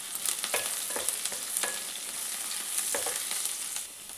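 Onions with a little turmeric frying in an AMC cookware pan while being mixed, a continuous bright hiss of sizzling oil broken by several soft scraping stirs, close up with no voices.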